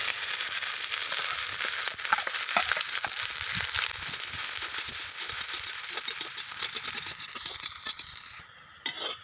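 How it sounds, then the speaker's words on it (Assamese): Sliced onion frying in hot oil with bay leaves, a loud, continuous crackling sizzle with occasional stirring that eases off near the end. "এয়া পিঁয়াজটো ভজা হৈ গৈছে"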